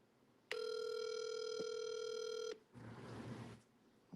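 A phone rings with a steady electronic tone for about two seconds, loud and close, then cuts off into a short burst of rustling noise.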